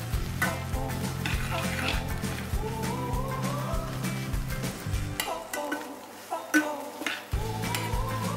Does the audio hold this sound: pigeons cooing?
no